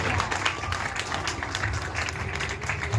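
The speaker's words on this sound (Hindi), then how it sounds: "एक बार बजा दो जो जोरदार तालियां" Audience applause at an evening poetry recital and award ceremony, a steady close wash of many hands clapping with some crowd noise, short and continuous with no speech over it.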